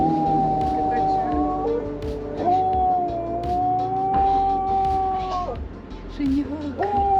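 A puppy on Samui, Thailand, howls in long, wavering, drawn-out tones that rise and fall over several seconds. Voices and other background noise run underneath.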